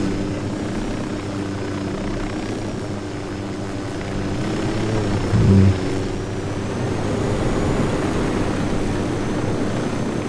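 Helicopter rotor and engine drone in the Ghost Recon Wildlands video game as the aircraft sets down, a steady near whir throughout with a brief thump midway.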